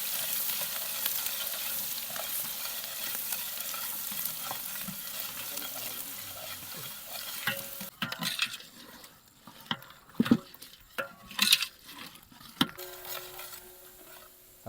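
Onions frying in hot oil for chicken masala, a steady soft sizzle with occasional stirring clanks and scrapes of a utensil in the pan, no talking.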